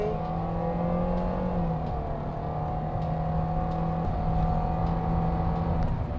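A Toyota Veloz accelerates hard during an acceleration test, its engine note a loud steady whine and drone held at high revs, heard from inside the car.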